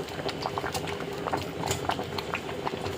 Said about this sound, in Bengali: তো এতেও কিছু সবজি সেরে এভাবে বয়েল করে নিচ্ছি।